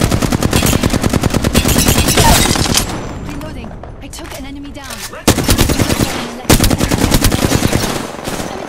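Rapid automatic gunfire in the video game Apex Legends comes in loud, close bursts of fast repeated shots, broken by a short lull with a voice speaking before the firing resumes.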